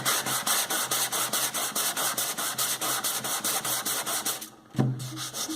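Steady, rhythmic rubbing strokes, about four a second, smooth and strip excess material from an interior door surface before it is primed, then pause briefly and resume.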